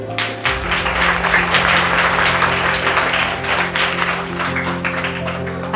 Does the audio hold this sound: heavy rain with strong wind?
no